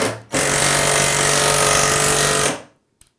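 An AEG cordless impact driver hammers a screw in, giving a loud, steady, rapid rattling burst of about two seconds that stops abruptly, then one faint click afterward.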